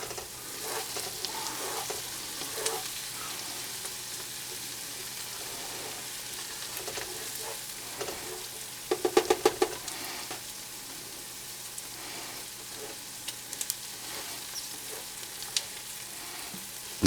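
Scallops frying in a pan give a steady, close sizzle, with scraping and tapping from a spoon as they are stirred, and a brief cluster of clinks partway through.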